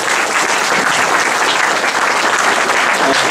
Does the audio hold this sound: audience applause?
yes